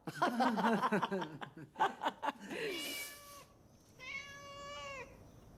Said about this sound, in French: J'ai entendu miauler, sœur Thérèse